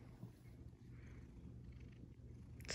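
A domestic cat purring close up, a soft continuous low rumbling pulse that stays faint and steady throughout, with no voices.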